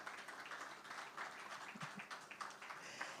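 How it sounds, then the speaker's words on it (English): An event audience applauds a guest, a faint, even patter of many hands clapping at a distance that carries on steadily throughout. "A round of applause, please, for Mr. Botosho."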